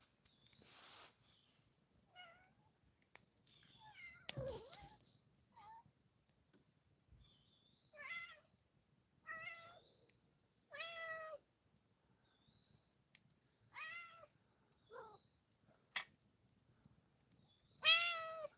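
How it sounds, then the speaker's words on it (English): A cat meows again and again at uneven intervals, some calls drawn out and clear, others faint and short, with a loud meow at the very end and no talk. "I got the kitty cat talking to me."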